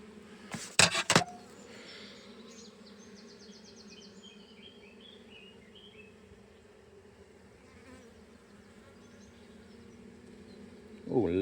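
Honeybees in an opened hive during a frame inspection, a continuous close droning buzz with a few loud clattering knocks at the start and again at the end.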